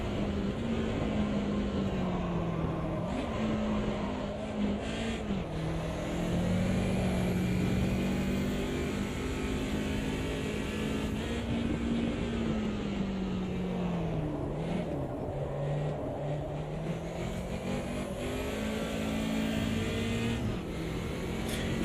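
A racing car engine in the Automobilista 2 sim drones continuously with a slightly rattly, thin tone, pitch rising and dipping through gear changes and corners, loud and steady with no talk over it.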